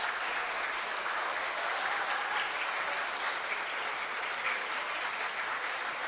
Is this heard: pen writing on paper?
no